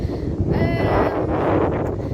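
Strong wind buffets a microphone outdoors on a city street, producing a loud, steady low rumbling roar throughout.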